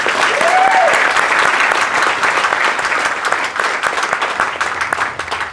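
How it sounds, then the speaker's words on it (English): Loud, dense applause from a large crowd at a US Air Force basic military training graduation ceremony, honoring the military training instructors, sustained evenly and fading slightly toward the end. "So another round of applause for MTIs."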